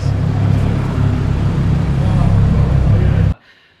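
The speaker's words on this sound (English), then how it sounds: "So, we're going for a few laps in this CRX." A Honda CRX race car lapping at night in Kanjo-style street racing, its engine droning loudly and steadily from inside the cabin, then cutting off abruptly near the end.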